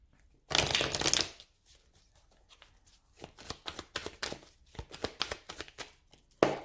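Oracle cards are shuffled for a tarot-style reading, one long riffle of rapid papery flutters followed by a series of shorter, crisp card slaps and shuffles, close and clear with no talking.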